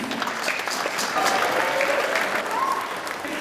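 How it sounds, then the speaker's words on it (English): Audience applause at a school arts and language festival, a steady wash of claps with a few voices calling out faintly above it. "let's give Joe a round of applause for keeping us moving smooth"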